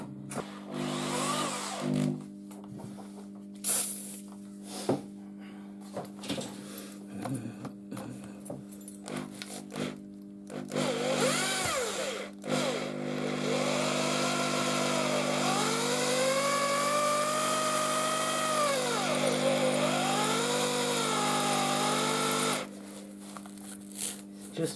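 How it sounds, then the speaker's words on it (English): A small drill bit whines into a sheared-off metal bolt with rising and falling pitch, stuttering at first, then a long sustained grinding run over a steady background hum. "I'm going to try it with a smaller drill head now"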